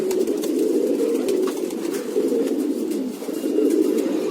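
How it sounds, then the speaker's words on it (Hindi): A Khatang pigeon coos steadily and loudly up close, low rolling calls repeating with only brief pauses. "खतंग कबूतर है"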